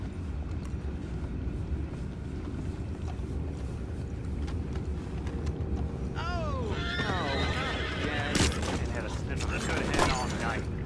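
A horse whinnies in rising, wavering calls partway through in the video game Red Dead Redemption 2, over a constant low rumble with faint voices and clatter in the background.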